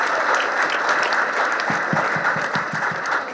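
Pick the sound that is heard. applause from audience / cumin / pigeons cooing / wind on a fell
applause from audience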